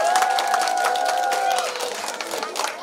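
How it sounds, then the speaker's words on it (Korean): Audience claps for an arriving guest at a foreign residents' welfare center event in Seongnam, with clapping and crowd noise carrying under an ongoing voice and a sustained tone that fades midway. "박수해 주세요"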